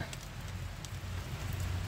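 Steady outdoor rain falls over a chili garden, a dense continuous hiss with a low rumble underneath that stays even throughout, with no clear voices.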